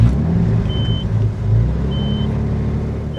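A car engine runs steadily with a low, constant rumble close by, while faint brief beeps sound over it and no one talks.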